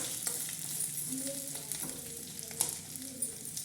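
Something sizzles softly in a pan while a spoon stirs it now and then, close but fairly quiet, with a few sharp scrapes and clicks against the pan.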